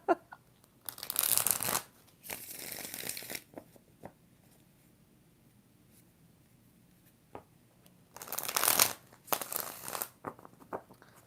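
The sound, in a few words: shuffling tarot cards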